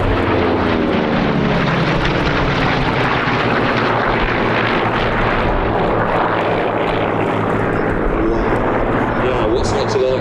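Three Corsair propeller fighters fly in formation at an airshow, their radial engines giving a loud, sustained, droning roar that swells and shifts as they pass, with people talking over the engine noise.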